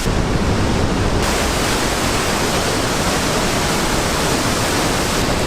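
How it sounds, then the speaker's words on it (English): A massive waterfall pours down through the middle of a Swiss mountain, swollen with winter runoff and rain: a loud, steady, unbroken roar of rushing water, close and alone with no voices. "massive amounts of water just pouring down through the middle of the mountain"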